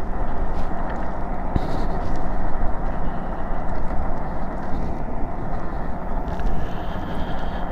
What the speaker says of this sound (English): And the wind's on my back right now.